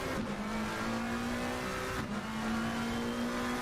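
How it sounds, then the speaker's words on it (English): GT3 race car in a racing video game, its engine holding a steady, near-constant drone with a brief dip and recovery partway through, loud and continuous with no talk. "Now can you hear the sound of the car better?"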